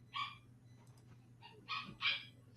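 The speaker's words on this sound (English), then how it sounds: "I don't know if you can hear little Bruno barking" A small dog named Bruno barks a few times in the distance, short yappy bursts spaced out over a quiet, low background hum.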